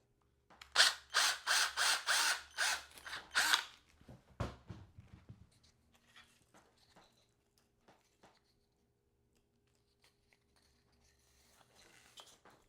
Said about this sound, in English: We're going to have to drill this one.